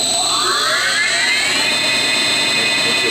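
A Technidrill combination gun drill and BTA machine spins its spindle up on jog with a loud, steady mechanical whine whose pitch sweeps upward and then holds, over constant machine noise.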